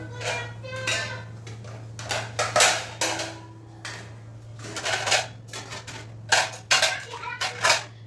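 Washed dishes, pots and cutlery are put away one after another, giving a string of close metallic clinks, clatters and knocks at an irregular pace over a steady low hum.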